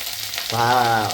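Cumin, curry leaves and tempering spices hit hot oil in a clay pot on the stove, setting off a close, steady sizzle that swells and holds for about a second.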